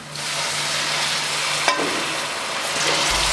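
Cabbage, potatoes and capsicum sizzling in a pan, a dense, even hiss close up with a brief clatter of stirring partway through, and no voices.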